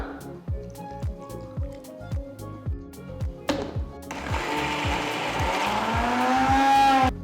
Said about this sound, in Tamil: ஸோ இப்போ கொஞ்சம் தண்ணி ஊற்றி நல்லா அரைச்சிக்கலாம்